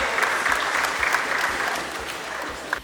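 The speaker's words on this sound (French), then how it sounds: "vos applaudissements, s'il vous plaît" A short burst of applause from a conference audience, steady clapping from many hands that gradually fades toward the end.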